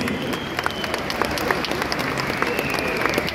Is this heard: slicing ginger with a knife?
no